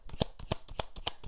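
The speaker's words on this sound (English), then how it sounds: "And I'm shuffling the cards." Vera Sibilla fortune-telling cards are shuffled close up in quick, regular riffles, about four crisp bursts in a row with no talking.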